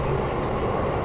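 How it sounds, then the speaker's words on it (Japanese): Limited express Wakashio train pulling out of Tokyo Station, a steady close rumble of rolling wheels and motors heard from inside the carriage, with no talk. "時間通り東京駅を出ました。"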